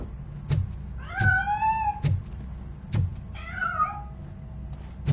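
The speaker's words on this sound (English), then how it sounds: "That cat must be hiding inside." Cat meowing while hidden inside a piano: two drawn-out, rising-then-falling meows, the second shorter, between sharp periodic thumps, fairly close and clear with no talk.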